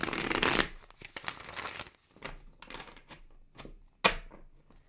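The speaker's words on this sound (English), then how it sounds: "Wants me to shuffle once." Tarot cards are shuffled in a quick riffle, followed by several softer taps and shuffling sounds, close and alone with no talking.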